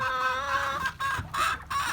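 Chickens on a backyard farm cluck up close in a steady run of bright, tuneful calls, broken by a few short pauses, with no talking.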